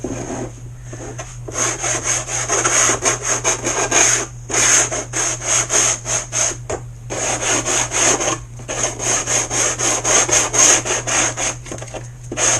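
A varnished wooden kit part has its edge chamfered by hand, giving rhythmic close rasping strokes, loud and regular, in repeated bursts with short pauses between them.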